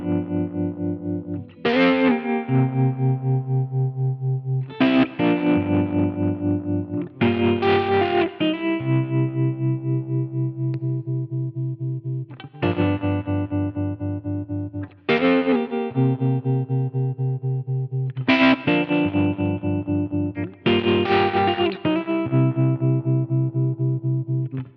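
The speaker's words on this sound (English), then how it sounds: "choose between a standard sine wave shape for the tremolo or a more prominent full wave" A driven electric guitar plays repeated chords through a small combo amp's pulsing tremolo, the volume throbbing rhythmically; several strummed phrases ring out with no talking.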